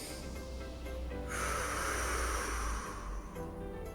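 A deep belly breath drawn in slowly through the nose during a breathing exercise, a soft, close airy rush that builds and then trails off, with no talk over it.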